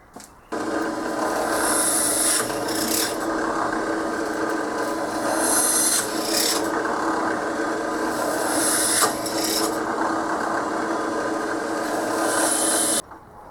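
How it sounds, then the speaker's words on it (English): A steady, loud grinding drone of a drill boring holes into a metal guitar pedal enclosure with a small bit runs continuously with slight variations, then stops abruptly. "I'll start drilling every single hole with the smallest size drill bit"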